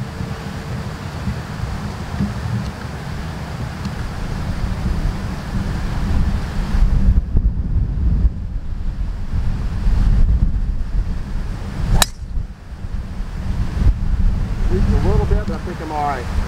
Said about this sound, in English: Wind is crosswind hurting us.